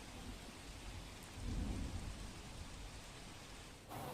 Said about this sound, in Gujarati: સુરત સહિત દક્ષિણ ગુજરાતમાં જે રીતે ધોધમાર વરસાદ વરસી રહ્યો છે